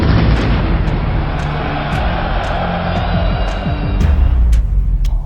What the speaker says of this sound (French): At 9:20 p.m., he triggers his vest.